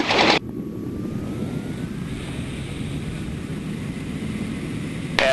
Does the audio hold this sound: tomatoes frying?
no